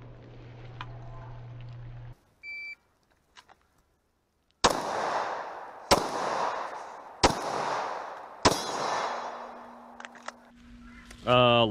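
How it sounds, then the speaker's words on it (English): A 10mm pistol fires four sharp, loud shots spaced roughly a second apart during IDPA-style practice, each crack followed by a short ringing decay, with quiet tones and a brief electronic sound around them. "I'm shooting 10 mil today, so. A little more than 40 cal."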